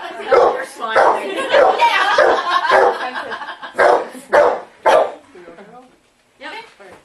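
A dog barks in sharp, loud bursts during an animal training session, the barks mixed in with near-continuous talking from people close by, then a few separate barks stand out before a brief pause.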